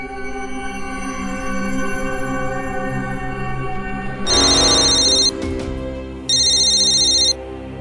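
An electronic phone ringtone rings twice in loud bursts over a steady background tone, with no one picking up.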